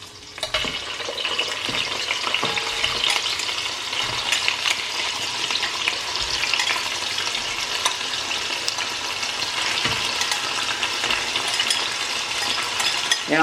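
Turkey pieces frying in hot oil in a pot for Ghanaian jollof rice, a steady dense sizzle and crackle close by, with occasional faint utensil clinks and no talking.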